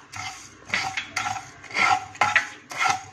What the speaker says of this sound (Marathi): सगळेच मसाले भाजून घेऊया.